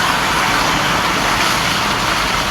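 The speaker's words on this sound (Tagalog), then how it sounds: "Ayan, may tricycle sa harapan natin." A motorized tricycle passes along a shallow flooded road in Mexico, Pampanga, its engine a steady broadband roar mixed with hissing water spray, continuous and fairly loud throughout with no talking.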